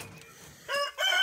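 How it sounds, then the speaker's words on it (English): A rooster on a small homestead crows in two short bursts near the end, fairly close and moderately loud over a quiet, faintly noisy background. "And the rooster, too."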